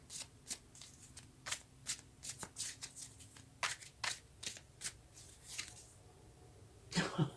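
Tarot cards being shuffled by hand in a quiet room, a series of crisp riffling and slapping bursts in an irregular rhythm, with a brief soft voice sound near the end.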